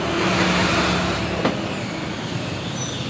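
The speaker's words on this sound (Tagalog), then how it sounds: "So, ganito ka-traffic ngayon sa Pinas." Steady road traffic in the Philippines with cars, trucks and buses, a continuous close engine rumble and wash of tyres, and a brief sharp air-brake-like hiss partway through, with no voices.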